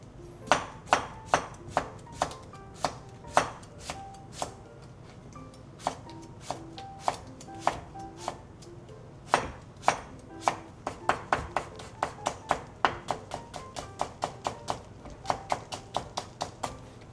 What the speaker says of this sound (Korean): 오이 썰겠습니다.